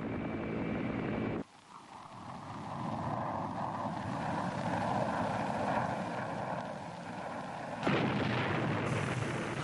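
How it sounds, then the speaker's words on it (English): Vietnam War footage of fighter bombers and helicopter gunships pounding landing zones in Thanh Ninh province: a continuous heavy roar of aircraft and rumbling bombardment, loud and sustained, with sharp cuts where the sound changes. "Fighter bombers and helicopter gunships hammered the landing zones."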